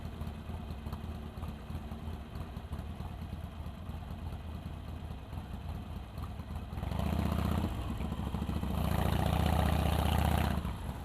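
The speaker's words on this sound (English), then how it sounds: "aftermarket end cans, and gives that sound, beautiful sound." A Harley-Davidson 883 motorcycle fitted with aftermarket end cans idles with a low, steady, rumbling engine note, then swells louder in two stronger bursts toward the end, recorded at moderate distance.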